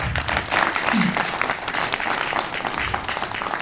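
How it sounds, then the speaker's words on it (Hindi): Audience applause at a Hindi-Urdu poetry recitation stage event, a steady dense wash of many hands clapping that fills the whole stretch at an even level, with some murmuring mixed in. "एक बार अपने लिए जोर से तालियां बजाइए।"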